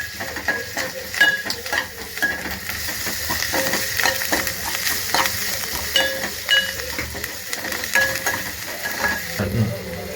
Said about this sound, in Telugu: కొంచెం అన్నం వేసి కలుపుతాను